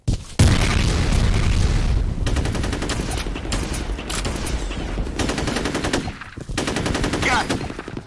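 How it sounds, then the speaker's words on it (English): Grenade blast and heavy gunfire in the shooter game F.E.A.R. Combat: a sharp boom opens into sustained rapid machine-gun bursts with further thuds, loud and close throughout. "Grenade out!"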